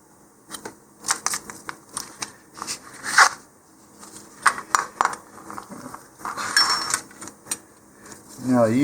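Scissors snip out Cheetah model rocket fin decals from a sheet, giving a series of irregular crisp cuts and paper rustles close by, with a voice talking between them.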